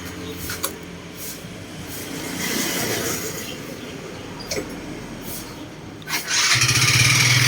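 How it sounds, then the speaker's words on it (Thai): Engine of a fuel-injected Yamaha Fino scooter with a scored piston and cylinder, running with a rough, knocking clatter over a steady drone that swells and roughens toward the end, close and fairly loud. "ผมฟังเสียงเครื่องกันนะครับ"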